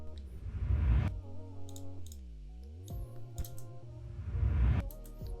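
A reversed cinematic swoosh effect that ramps upward, built from layered tonal sweeps that dip and rise, with light clicks scattered through and a fuller swell near the end, standing alone without talk.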